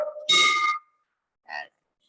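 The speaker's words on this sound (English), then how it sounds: "I'd like to ring the bell" A handheld bell rung once at a Rotary Club of Oakland meeting, a loud clear metallic ding that rings and fades, followed by a softer second strike.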